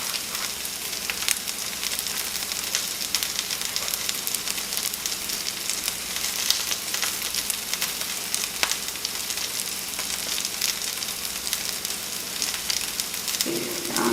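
Flour-dredged squirrel pieces fry in a pan, giving a continuous, loud sizzling crackle that holds steady from start to finish, with no talking over it.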